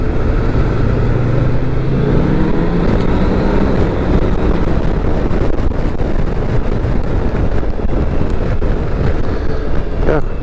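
A BMW K1600GT 2024 motorcycle rides at speed, its engine a steady droning zoom under heavy wind rush, loud and continuous throughout, with quick gear shifts.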